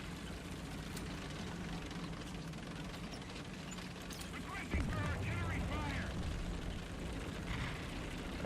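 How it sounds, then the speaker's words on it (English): A tank gun fires close by in War Thunder with a loud, sharp boom that swells briefly and rolls away over a steady bed of engine and battlefield rumble. "I thought I saw the smoke, but now I think I just heard the gun."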